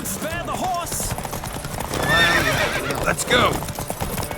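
Horses gallop and neigh during a race in the video game The Witcher 3, with rapid hoofbeats running throughout and loud whinnies cutting through, while riders shout over the action.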